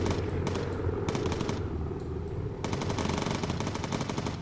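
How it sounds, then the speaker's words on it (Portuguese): Bursts of rapid machine gun fire from the Bomber Crew video game, a dense rattle in several volleys with brief gaps, loud and close over a steady rumbling engine drone. "Olha estes tiros todos tortos."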